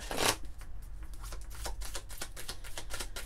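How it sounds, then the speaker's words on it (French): Oracle cards from an eternal souls deck being shuffled by hand: a steady run of close, papery riffles and flicks lasting a few seconds, with no voices. "On va prendre quelques cartes de l'oracle des âmes éternelles."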